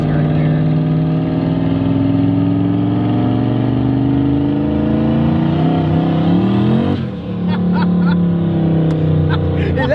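A turbocharged manual import car's engine revs hard and sustained, a loud droning roar with rising harmonics that dips briefly near the end before picking back up, with voices faintly mixed underneath.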